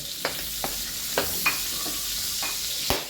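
Onion, garlic and ginger frying in a pan, a steady hiss of sizzling with a few sharp scraping stirs of a utensil at irregular intervals, close and moderately loud, no talking.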